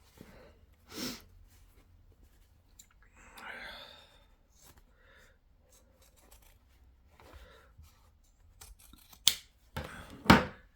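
Scissors snip excess fabric from a sewn seam of a sailor hat, a handful of sparse, close, crisp cuts spread out with rustling cloth between them, under soft quiet speech, with the sharpest snips near the end.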